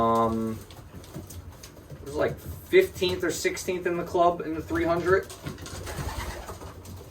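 Racing pigeons coo softly inside their coop, with low rolling calls repeating throughout while someone talks over them at close range.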